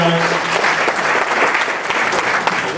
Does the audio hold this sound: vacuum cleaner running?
no